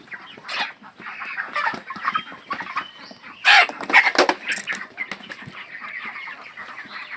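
Broiler chickens on a farm clucking and squawking in a lively, overlapping chorus, close up, with a louder burst of agitated calls midway and occasional wing rustles, no talking.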